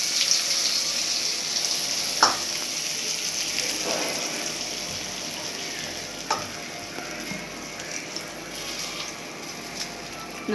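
Spices tempering in hot oil for a Kerala fish curry with kudam puli, giving a steady close sizzle and crackle with a few sharper pops, no talking.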